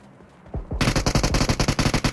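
Rapid automatic gunfire in the video game PUBG Mobile, a couple of lead-in shots followed by a loud, steady burst of closely spaced rounds.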